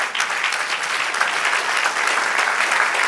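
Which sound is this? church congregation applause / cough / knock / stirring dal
church congregation applause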